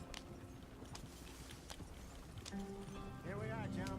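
Faint, irregular horse hoof clip-clops from Red Dead Redemption 2, rolling along beneath steady background noise and a voice.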